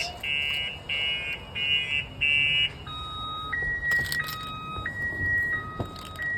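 A Viper car alarm on a 2004 GMC 2500 HD beeps in short bursts, then shifts to an alternating two-tone electronic siren pattern, fairly close and clear.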